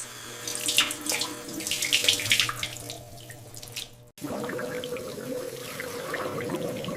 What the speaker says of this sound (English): I washed my face.